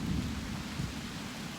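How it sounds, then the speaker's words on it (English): Low, rolling thunder from an approaching rainstorm over a planted food-plot field, a continuous distant rumble layered with the steady patter of rain. "You'll probably hear the thunder."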